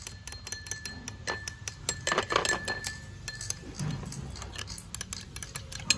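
Ingredients for a homemade anti-dandruff shampoo are stirred in a bowl, with a steady run of small clinks and taps of a utensil against glass, close and fairly quiet, with no one talking.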